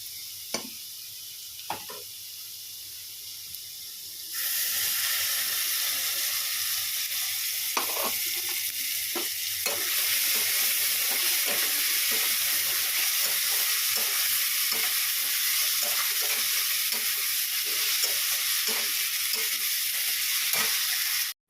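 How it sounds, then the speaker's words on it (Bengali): Frying in a pan with poppy seeds: a quiet start with a few scrapes, then a loud, steady sizzle takes over, broken by repeated stirring and scraping strokes, with no voices. "লাল লাল করে ভাজা হয়ে গেছে"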